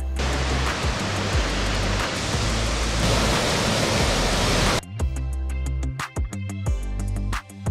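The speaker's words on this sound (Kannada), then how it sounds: "ಭೋರ್ ಕರೆಯುತ್ತಾ ಧುಮ್ಮಿಕ್ಕುತ್ತಿರೋ ಈ ದೃಶ್ಯ ಹಾಸನದ ಹಾರಂಗಿ ಜಲಾಶಯದ್ದು" Water released from Harangi dam roars into the river during monsoon, a loud dense continuous rush that cuts off partway into a quieter section with clicks and thuds.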